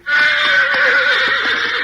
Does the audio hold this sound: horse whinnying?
yes